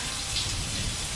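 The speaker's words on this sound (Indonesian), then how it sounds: "shower di WC kamar hotelku tiba-tiba menyala." Steady, even hiss of running water from a shower in a hotel bathroom, continuous and fairly close, with no voices.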